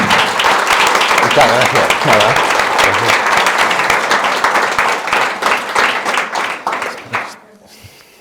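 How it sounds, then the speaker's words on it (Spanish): An audience at a lecture in San Sebastián gives strong, dense applause that thins into scattered claps before dying away, while someone speaks briefly over it. "Un fuerte aplauso, por favor."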